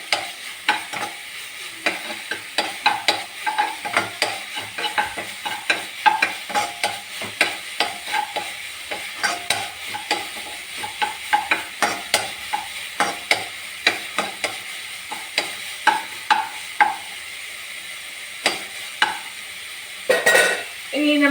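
Egg and green peas podithuval stir-fried in a pan, with a constant close sizzle and rapid, irregular spatula scrapes that continue for about twenty seconds and grow sparser toward the end, with no voices.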